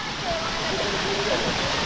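Clavidín waterfall near Quito, reached on a forest hike, roars as a steady, dense broadband rush of falling water close by, with voices faintly mixed in.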